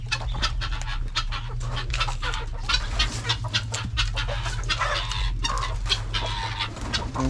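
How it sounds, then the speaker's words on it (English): Chickens being fed cluck busily and continuously, close by, with a dog panting among them. "We're going to go in first here and feed our chicks here."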